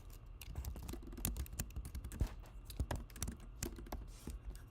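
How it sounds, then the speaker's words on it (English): Rapid, steady typing on a computer keyboard, close and clear with continuous clicky keystrokes at a brisk, slightly uneven rhythm and no talking. "I'm just going to type there to give you guys some information"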